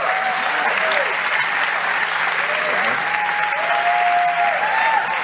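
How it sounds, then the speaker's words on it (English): A graduation audience at a Wharton MBA 2019 ceremony gives a round of applause, dense sustained clapping from a large crowd, steady and loud, with faint whistles or cheers rising above it. "Let's give a round of applause for Zack."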